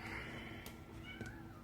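A cat meows indoors, a short tonal call followed by a second fainter meow, heard up close but quietly over a low room background, with no one speaking.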